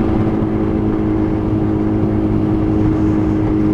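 Yamaha FZ1-N motorcycle running the older pre-crossplane R1 inline-four engine at a steady idle, a constant low, dense engine hum with no revving, close and unbroken throughout.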